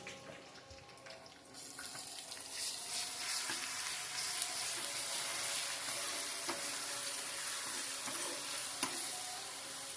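Dry red chillies and garlic fry in a pan for a Kannur-style dal curry, a steady close hiss that rises after a quiet start and holds a bright, even sizzle with faint scattered crackles.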